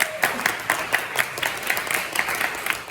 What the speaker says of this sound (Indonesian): terima kasih Farid, kasih tepuk tangan